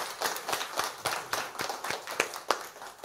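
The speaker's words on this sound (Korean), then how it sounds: "죽으시고 부활하신 하나님께 영광의 박수 올려드리기를 원합니다" A church congregation claps in a slow, regular rhythm, roughly four sharp beats per second, moderately distant and fairly quiet in a reverberant hall.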